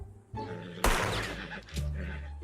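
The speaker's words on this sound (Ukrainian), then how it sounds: "Та й скажу, ви добре стріляєте." Gunfire in the Wild West game Red Dead Redemption 2: one sharp, loud shot with a short ringing tail, followed by a lower thud and rumbling background noise, with no speech.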